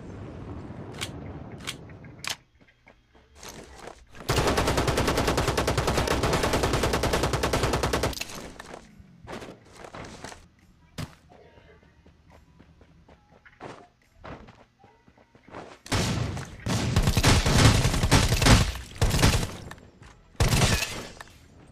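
Bursts of rapid video game gunfire, loud automatic volleys separated by quieter stretches with scattered single shots and thumps.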